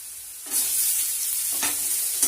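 Potato, garlic and radish frying in a pan, heard as a close, bright sizzle that swells when stirred, with a brief scrape or two and no talking.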